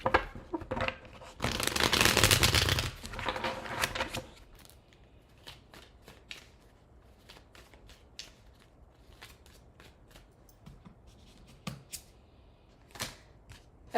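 A deck of tarot cards riffled in one loud, close burst, then quieter taps and handling of the cards for the rest; nobody speaks.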